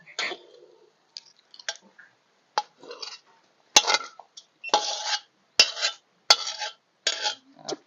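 A cooking pot is handled and set down in a home kitchen while Lao duck blood dish is prepared, giving sharp metallic clanks and knocks in irregular bursts, close and fairly loud, with scattered clinks between.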